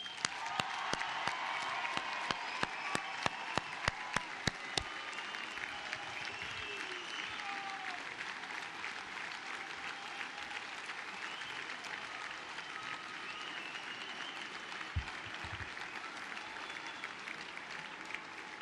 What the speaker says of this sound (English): let us salute the class of 2009 with one final round of applause